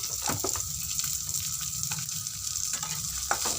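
Chopped onion, ginger, cumin seeds, whole coriander and slit green chillies fry in a pan for a thin cauliflower and lentil-dumpling curry, a dense close sizzle with scraping stirs and small clinks throughout.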